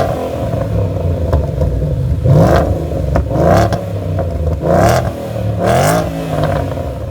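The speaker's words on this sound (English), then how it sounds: "see what this baby actually sounds like" 2014 Ford Mustang GT engine and exhaust revving, a deep throaty rumble punctuated by four or five sharp rising blips, loud and close with no talking.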